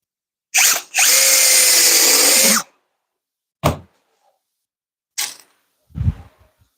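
A power drill drives small, skinny screws into the wooden frame of a recliner arm rest, with one sustained whirring run followed by a few brief bursts and clicks.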